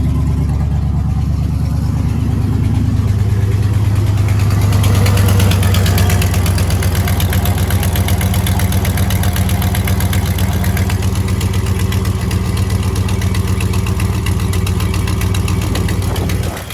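Patina 1955 Buick with a rebuilt generator, freshly started and idling steadily for the whole stretch, a loud, close, even rumble with a constant low throb and no voices.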